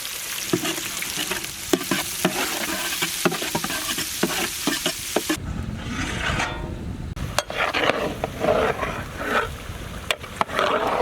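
Sliced onions fry with ginger, garlic and spices for a Malaysian chicken biryani, sizzling loudly in hot oil while a spoon stirs and scrapes the pan, with the sizzle swelling afresh after the onions go in.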